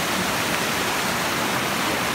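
Hat Creek waterfall and creek in Lassen Volcanic National Park on a cold day, a steady, dense rush of falling and flowing water that stays even and unbroken throughout.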